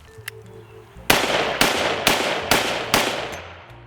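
M16A4 full-length rifle fired outdoors with a Magpul magazine, five loud sharp shots spaced roughly half a second apart, each with a short echoing tail, after a few faint handling clicks.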